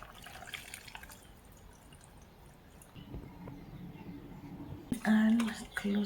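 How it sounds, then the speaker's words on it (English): Clean water being poured into a blender for a banana smoothie in a village kitchen, a quiet trickle and splash that swells into louder pouring toward the end. "And then I'll add some clean water."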